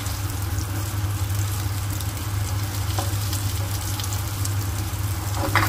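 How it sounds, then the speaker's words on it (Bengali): Potato pieces frying in hot oil in a home kitchen, a steady close sizzle with faint crackles and an occasional stir, no voices. "এবার এই আলুটাকে আগে একটু তেল দিয়ে ভেজে নেওয়া হলো"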